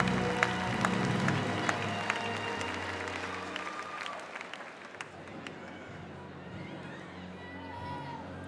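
An audience at a championship inspection of older stallions applauds steadily for several seconds, a broad wash of clapping that slowly thins and fades toward the end, with a low hum and some faint voices underneath.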